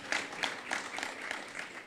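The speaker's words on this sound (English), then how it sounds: "let's give it a round of applause." Soft round of applause from an audience at a film festival conversation, honoring the 1996 film Walking and Talking, with even clapping that sounds moderately distant and continues without speech.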